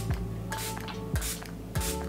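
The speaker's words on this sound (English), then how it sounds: "I'm gonna be using this Euphoria setting spray." Euphoria setting spray mists in three quick, breathy hisses spaced about half a second apart, each preceded by a small pump click, close and alone.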